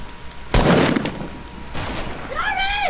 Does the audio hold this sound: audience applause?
no